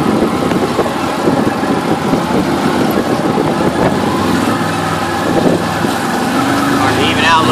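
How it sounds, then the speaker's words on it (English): A Can-Am Maverick side-by-side engine brakes in four low on a trail, its engine a loud, steady, rumbling drone with road noise, while people talk over it. "Engine brake works awesome in four low."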